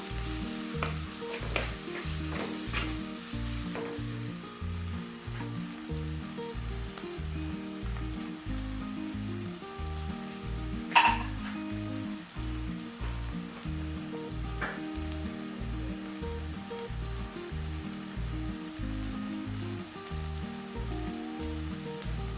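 Finely chopped onions and shallots fry in oil with a steady crackling sizzle. Stirring adds a rhythmic, repeating low scrape throughout, with one sharp clink partway and no voices.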